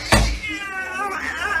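A cat lets out a single drawn-out, wavering meow up close, right after a brief thump.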